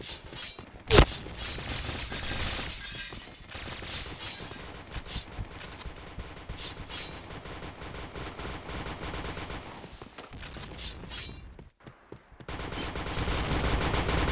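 Rapid bursts of gunfire from the Point Blank shooter game crackle nearly nonstop, with one sharp loud shot early on and dense overlapping firing that drops out briefly near the end before resuming.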